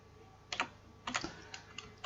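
Fingers type on a computer keyboard while entering a spreadsheet formula, tapping out a few separate bursts of keystrokes up close in a quiet room.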